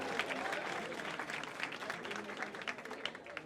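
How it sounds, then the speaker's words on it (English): Comedy club audience at an improv show in DC applauds steadily for several seconds, a dense, continuous wash of clapping with some crowd noise mixed in, moderately loud throughout. "Give yourselves a round of applause"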